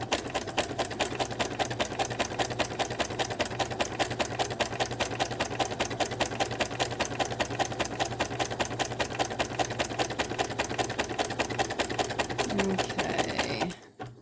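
A home sewing machine stitches knit fabric with a fast, even mechanical chatter and hum that runs continuously and close up, stopping abruptly at the very end.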